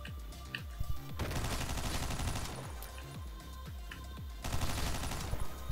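Rapid enemy gunfire in the video game OTXO, dense bursts of shots rattling continuously and loudly, with heavier volleys near the start and end.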